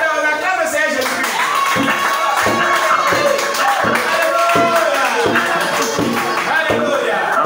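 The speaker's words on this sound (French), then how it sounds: "on acclame le Seigneur Jésus-Christ" A church congregation at a thanksgiving service claps in steady rhythmic bursts to acclaim the Lord, loud and close, with voices and music sounding throughout.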